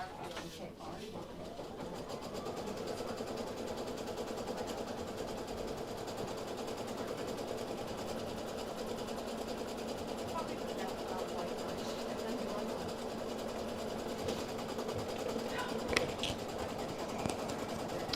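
An embroidery sewing machine runs a placement stitch for a quilted bag, giving a continuous rapid mechanical stitching rattle that holds at an even level throughout. A voice seems to talk over it.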